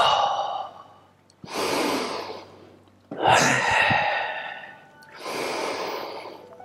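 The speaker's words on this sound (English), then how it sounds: "Breathing in." Deep, audible breaths taken during a qigong lower-body squat exercise, four long airy inhales and exhales close to the microphone, each swelling and fading with pauses between.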